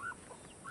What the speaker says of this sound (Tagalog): So, ito yung mga manok natin guys.